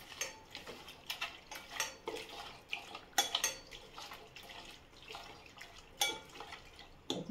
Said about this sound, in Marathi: त्याचा सगळं मीठ आणि मसाला लावला आहे, त्यामुळे मिक्स करते